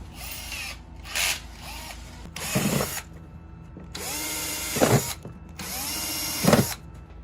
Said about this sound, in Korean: 6mm 드릴로 구멍을 냅니다.